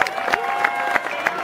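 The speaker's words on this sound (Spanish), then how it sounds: "¡Un aplauso fuerte!" An audience applauds at an awards ceremony, a dense roar of clapping with a few sharp louder claps recurring and crowd noise throughout.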